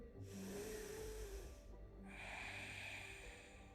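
A slow, deep breath drawn in during a beginner yoga session, quiet and close, with a breathy rush that pauses briefly and then resumes more strongly before fading, alone without speech.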